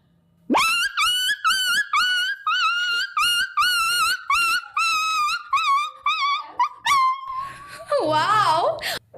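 A voice imitates a beaten puppy whimpering, a rapid run of short, high, close yelps. It ends in a rising, wavering wail.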